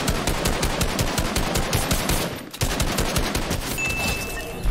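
Rapid automatic gunfire from an AR and a charged shotgun rattles continuously in a Fortnite match, loud and dense, with a brief pause midway before the bursts resume.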